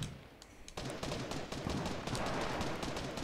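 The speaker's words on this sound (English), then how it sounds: "Assault rifle." Rapid bursts of assault rifle fire in the Fortnite battle royale game ring out loud and close as a sustained, dense volley of sharp cracks lasting most of the moment.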